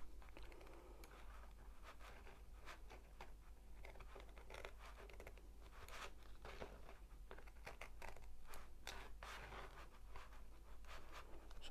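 Scissors, their blades getting gummy, snip along the edge of a small diamond painting canvas close to the drills, giving faint, steady papery crinkling and patter-like cuts up close with no talking.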